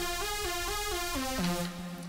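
A flute-like synth lead, heavily distorted and squashed with OTT compression, plays a descending run of bright, buzzy stepped notes, loud and close with no voices.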